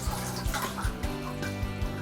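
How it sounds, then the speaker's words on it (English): Water running from a tap into a kitchen sink during a DIY unblocking job: a steady close rush and splash with bubbling gurgles from the water filling the basin. "And I'll run in some water."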